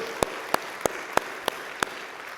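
About six sharp, evenly spaced claps ring out at a church sermon, sparse and fairly faint over a quiet room, like a small congregation or a lone person clapping.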